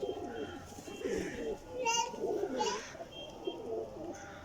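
Teddy golden pigeons coo close by in soft, repeated throaty calls while someone talks over them.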